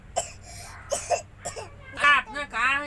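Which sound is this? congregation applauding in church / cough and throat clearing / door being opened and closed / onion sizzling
cough and throat clearing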